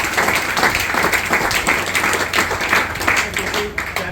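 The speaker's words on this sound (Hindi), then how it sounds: "जोरदार ताली" An indoor audience at a motivational business gathering bursts into loud, sustained applause, a dense wash of many hands clapping continuously at close range for several seconds.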